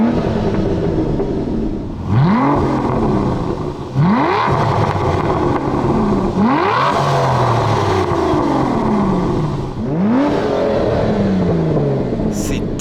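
An Aston Martin DBS in sport mode revs repeatedly with the brake held, giving four or five sharp, loud rising bursts that each fall back to a rumbling idle, all close up.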